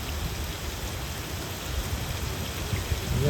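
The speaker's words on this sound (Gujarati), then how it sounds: "અડધી પોણે કલાકથી તો સતત ફૂલ વરસાદ ચાલુ છે" Continuous heavy rain in Botad, Gujarat, falls in a dense, unbroken hiss that stays steady and fairly loud throughout, with nothing else standing out.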